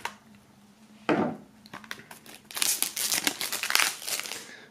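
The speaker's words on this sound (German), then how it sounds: "Wir fangen mit dem Album an, das heißt, wir werden dieses ebenfalls mal aus der Folie befreien." Plastic shrink wrap is torn and peeled off a sealed music album box set, with a sharp initial rip followed by close crinkling and crackling of the film, no speech.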